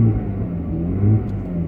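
A Jaguar XJ6 X300 engine, running slightly lumpy after a crankshaft position sensor replacement, rumbles steadily while driving, with a brief rise in revs midway and no voices.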